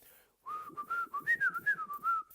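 Someone whistles a quick, wavering melody with rapid pitch slides, imitating a guitar solo, close and clear, with no other voices.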